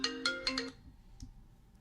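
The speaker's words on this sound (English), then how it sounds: "Just give me an Apple ringtone for once." A bright marimba-like phone ringtone plays in a quick run of chiming notes before cutting off, clear and close, followed by quiet room noise.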